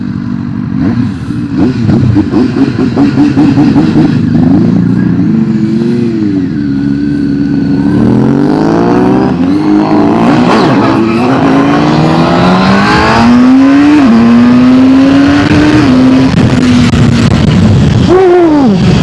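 A CFMOTO 750SR sportbike ridden hard, its engine loud and close, revving up and down through repeated rising and falling sweeps as it accelerates and shifts, with no talking over it.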